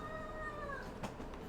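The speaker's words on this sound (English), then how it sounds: "the cat kind of meow growls, like makes like a little chirp sound" A cat gives a short meow-like growl that rises into a little chirp, close and fairly quiet, with one brief soft burst near the end and no talking.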